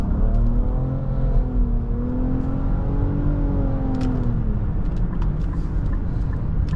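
A 2023 Nissan Rogue Platinum with a CVT accelerates on a morning drive. A steady, rising engine drone and whir comes through from inside the cabin, with light ticks and road noise underneath.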